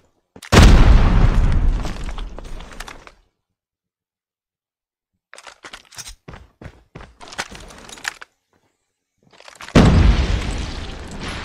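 Grenade blasts in a competitive video game match: a loud, deep boom erupts and rolls off over a few seconds, followed by quiet, scattered thuds and footstep-like knocks, then a second heavy explosion near the end.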